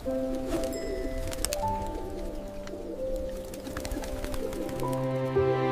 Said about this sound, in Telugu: ఈసారి పావురాలు ఒక చిన్న చర్చిలో దిగాయి.